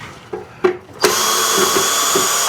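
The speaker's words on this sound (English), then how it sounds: "two more screws to get out." A power drill on a Girard water heater gives a few short clicks and taps, then spins up into a loud, steady whine close by as it backs out screws.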